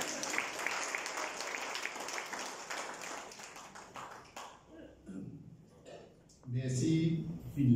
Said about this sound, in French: on applaudit, bien sûr